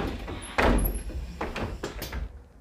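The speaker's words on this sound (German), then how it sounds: "Jetzt können wir mal die Tür mal vorführen." The rear door of a city bus opening, a close pneumatic hiss and clunk of the door mechanism followed by a few softer knocks and a squeak as it settles.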